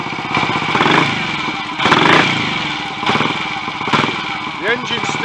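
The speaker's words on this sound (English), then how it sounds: "The engine still sounds a bit tight, but I've got to say that the throttle response on and off is a lot more rapid." A Royal Enfield 250 GT motorcycle engine, alternator rotor removed, runs close up with a buzzy, slightly tight note, rising in four quick throttle blips about a second apart and dropping back to idle between them.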